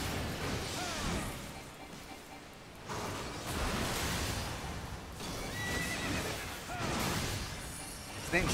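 A horse in a video game neighs and whinnies repeatedly in loud, close bursts, with hoof clip-clops and game noise between the calls.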